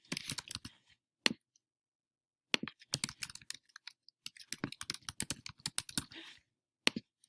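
Fingers type an email and password on a computer keyboard in quick bursts of clicking keystrokes, with short pauses between runs; close and fairly quiet, with no voices.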